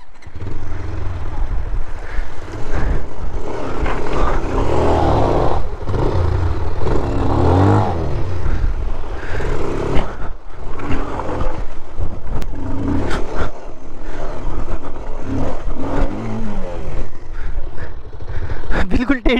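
A motorcycle engine roars and revs continuously while a rider takes it over a rough, dangerous off-road track with a small crossing, the bike skidding and tilting, with excited talk over the engine throughout.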